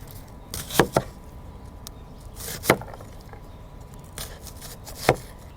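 An onion being chopped on a board with a Maxa Blades kitchen knife at a camp kitchen, a few sparse, sharp knife thunks in small clusters against quiet background.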